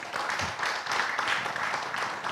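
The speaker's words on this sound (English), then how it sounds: "A big round of applause for Kaman Parekraf" A crowd at a conference session claps steadily throughout, a dense wash of applause at moderate loudness with no voices standing out.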